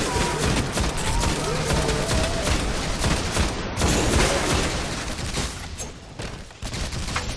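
Sustained gunfire from the video game Destiny, on Xbox, fills the whole stretch as a dense, loud barrage of rapid overlapping shots and blasts, with a brief dip near the end.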